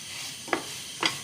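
Tomatoes cooking down in a pan give a faint, low sizzle, broken by two brief scraping strokes of a spoon about half a second apart.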